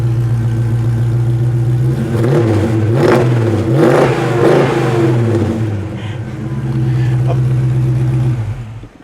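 A 1968 Oldsmobile Cutlass convertible restomod revving its engine nearby, a loud steady idle rising through a few throttle blips before settling back down.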